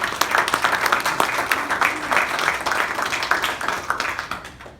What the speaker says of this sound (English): Big round of applause to Craig.